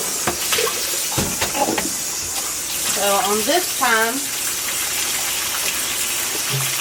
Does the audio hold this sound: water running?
yes